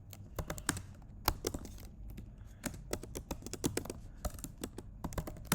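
Steady, fairly quiet typing on a computer keyboard, with rapid irregular key taps in close succession and a few slightly louder strokes, heard up close with no talk.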